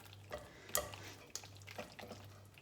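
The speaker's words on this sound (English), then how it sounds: "so just mix this through" Stirring macaroni and cheese in a pot after more cheese has been added: a faint, quiet scraping of the spoon with a few soft clinks against the pot, no talking.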